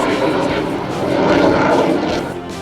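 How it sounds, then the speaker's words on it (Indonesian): F-16 and EMB 314 Super Tucano fighter aircraft landing on a toll road: a loud, continuous engine roar that swells slightly mid-clip, with a voice talking over it. "Pesawat tempur sempat menggetarkan, dan dalam hitungan detik, pesawat bisa menyentuh aspal tol dan mendarat dengan sempurna."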